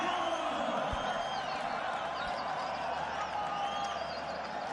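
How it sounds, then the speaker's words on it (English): Stadium cricket crowd in a Pakistan versus Sri Lanka one-day international roars for batsman Babar Azam, a steady loud wash of cheering and whoops with scattered clapping, continuous throughout with a voice speaking over it. "It is absolutely phenomenal the way the crowd react"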